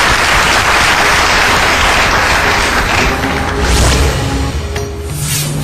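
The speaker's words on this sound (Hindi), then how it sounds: "जोरदार तालियों से स्वागत कीजिए गुरुदेव का।" A television studio audience gives loud, sustained applause to welcome a guest astrologer on a Hindi talk show, a dense, continuous wash of clapping with no speech over it.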